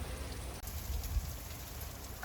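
Heavy rain pours down outside, a dense, steady hiss of drops hitting surfaces that continues without a break, heard fairly close with no voices.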